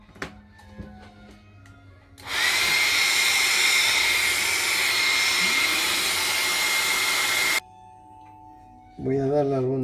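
A hair dryer blasts steadily at close range for about five seconds while drying a watercolor painting of water lilies, switching off abruptly, with a short low hum afterward and faint handling clicks around it.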